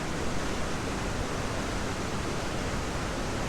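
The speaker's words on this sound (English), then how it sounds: "A raging torrent." A raging waterfall torrent formed by Hurricane Ida roars as a dense, unbroken broadband rush of falling water, loud and close, with no talk over it.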